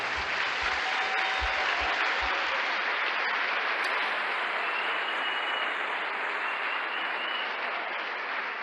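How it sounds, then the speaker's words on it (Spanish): Applause from a congregation at a church service, a dense, sustained wash of clapping that stays loud and even for the whole stretch, with a few low thumps near the start. "Un aplauso."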